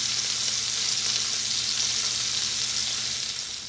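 Wagyu beef patties topped with melting white cheddar sizzle steadily in a hot pan, a loud, continuous, close frying hiss that holds even throughout and eases slightly at the end, with no voices.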